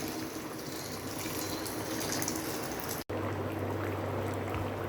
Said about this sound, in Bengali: তো আমি দিয়ে দিলাম পরিমাণ মতো পানি।